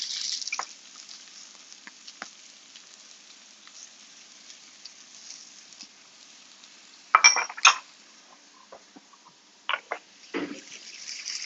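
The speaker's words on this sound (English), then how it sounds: "So I'm going to cook off the onion and the celery first. Yeah, you should always hear that nice sizzle." Diced onion and celery frying in a hot pan, a steady soft hiss of sizzling interrupted by a few sharp clinks of a utensil against cookware.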